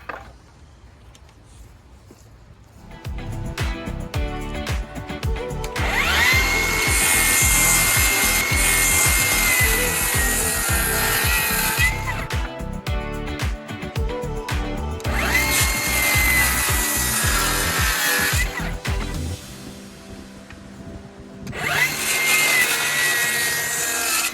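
Wooden deck joists being cut with a power saw while building a sunroom deck structure, several long loud sawing passes with rough rasping through the wood, separated by short pauses.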